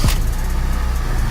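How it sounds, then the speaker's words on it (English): A 2006-2013 Honda Fit with a misfire issue catches with a quick low sweep, then settles straight into a loud, steady idle rumble close by. "Let's go ahead and start the car."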